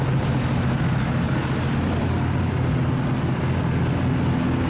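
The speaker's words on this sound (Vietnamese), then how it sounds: "Đây là xà lan, chiếc xà lan đi cát các bạn, phía sau là nhiều chiếc ghe lúa." Engine drone of a sand-carrying steel barge with rice boats close behind on a canal, a steady low rumble with dense churning noise, loud and unbroken throughout with no voices.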